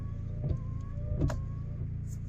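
Car windshield wiper motor running in short whirring bursts with faint mechanical clicks, quiet and close, with a low steady hum underneath.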